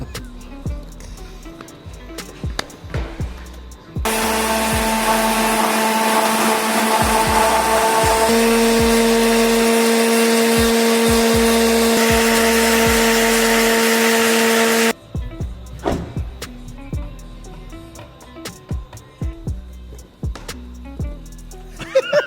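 A power sander whirs loudly and continuously for about ten seconds, then cuts off, with scattered handling knocks and clatter before and after.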